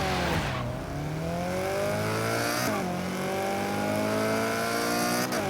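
Race cars in Forza Horizon 3 rev and pull away from a race start, several engines roaring loud and steady, pitch sweeping up as they shift through gears over about five seconds.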